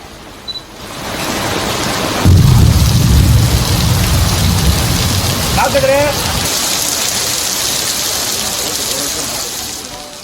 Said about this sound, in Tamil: குயவன்குடி, உடைச்சியார் உள்ளிட்ட பகுதிகளில் திடீரென கனமழை பெய்தது